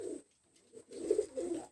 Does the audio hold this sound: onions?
no